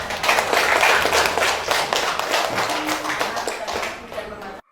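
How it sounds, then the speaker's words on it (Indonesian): Fifth-grade pupils clap their hands together in a classroom, a sustained, fairly loud patter of many small hands, continuous and close, tapering off near the end. "beri tepuk tangan untuk Antek"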